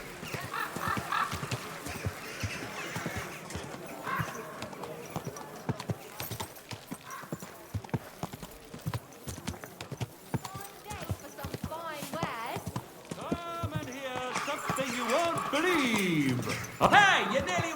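Horse hooves clip-clop at a walking pace in Kingdom Come: Deliverance 2, a regular rhythm of close, crisp knocks running beneath voices talking, with other game sounds swelling near the end.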